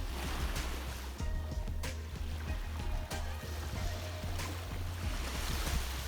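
Sea waves at a sunny beach wash in steadily with a broad hiss, and low rumbling thuds come and go beneath it.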